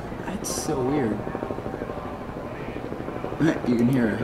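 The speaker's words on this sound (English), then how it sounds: "You can hear a helicopter." A helicopter passes over a NASCAR Cup Series race at the Alabama 500, its steady rotor chop rumbling beneath a person talking in the foreground for most of the stretch.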